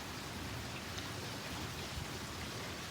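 Heavy rain falling steadily during a severe thunderstorm in Calgary, a dense, even hiss of rain with no distinct drops standing out and no voices.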